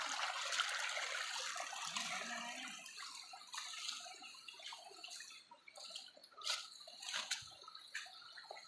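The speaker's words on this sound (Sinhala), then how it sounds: "මේ ඇලපාර කොම්ම දිගට ගලාගෙන යනවා පල්ලෙහාට" A stream in Kitulgala flowing downhill over rocks, forming small cascades: a steady, airy rush of water with scattered splashes and drips, close and fairly soft.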